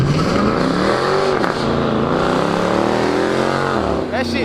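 Car engines rev loudly at a car meet, a steady roar with rising pitch sweeps as they accelerate, mixed with crowd noise and people talking over it.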